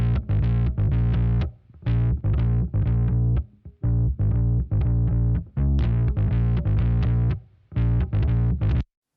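A heavily distorted bass guitar line run through an 1176 compressor with all buttons pressed in, loud and gritty, with choppy repeated notes broken by short pauses.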